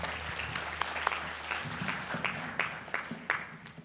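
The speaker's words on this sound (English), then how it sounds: "Let's give him a better clap." Applause from an audience after a professor's talk at a biomedical conference, steady clapping with several sharper claps standing out, filling the whole stretch at moderate volume.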